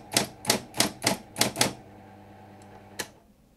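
A manual typewriter retyping a word over itself for bold text, six quick, evenly spaced key strikes close up, followed by a quiet gap and a couple of faint mechanical clicks.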